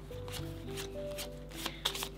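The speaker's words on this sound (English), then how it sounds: "then we shuffle our 10 numbered cards, and we draw 7" A small deck of ten numbered cards from the Age of Eon board game is shuffled by hand, giving a run of quick, close riffling and snapping sounds.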